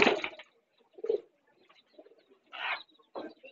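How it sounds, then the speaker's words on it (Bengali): Several soft, low coos from a desi pigeon come in short bursts with gaps between them, close to the listener and with no voices. "একটা কবুতর, দেখুন বন্ধুরা"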